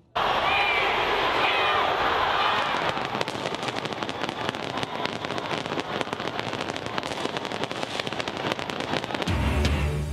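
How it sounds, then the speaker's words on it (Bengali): Dense New Year's Eve fireworks crackle and pop continuously, with many sharp bursts layered over a constant roar, loud and sustained before cutting off abruptly. "জমায়েতহীন আতশবাজিতে দেশে দেশে বর্ষবরণ শুরু"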